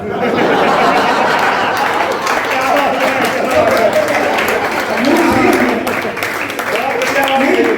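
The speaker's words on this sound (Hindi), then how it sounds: "आप ताली बजाते रहना।" An audience applauding at an all-India Hindi poetry gathering, with steady clapping and murmuring chatter filling the whole moment, loud and close.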